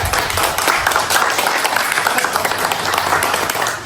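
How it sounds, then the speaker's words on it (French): A family crowd applauds a young Cameroonian inventor's homemade generator prototype: loud, dense clapping that stays steady and close throughout, with no clear voices on top. "Famille, applaudissez pour lui."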